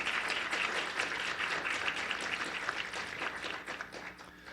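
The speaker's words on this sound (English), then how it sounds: "let's give them a round of applause" A room of people at a startup week mHealth challenge event clapping, moderately loud and steady, slowly thinning out toward the end.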